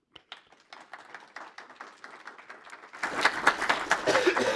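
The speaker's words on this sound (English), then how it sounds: "Give them a round of applause" At a panel on remote working, a few scattered claps at first thicken after about three seconds into fuller, louder applause for the panel speakers from a conference audience.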